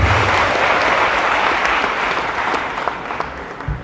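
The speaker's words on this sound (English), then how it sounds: "Give yourselves a clap." Loud, steady applause from an audience at a university event in Kenya, a dense wash of clapping that thins slightly toward the end, with no voices over it.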